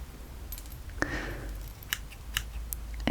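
Scissors trimming length straight across hair during a soft-spoken haircut, giving several crisp, close snips spaced about a second apart over a quiet room background.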